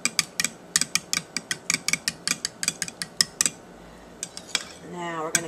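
Oil and vanilla being whisked into pancake batter, a quick run of sharp metallic taps and clicks against the bowl, then a pause and a few more scattered clinks, close and crisp.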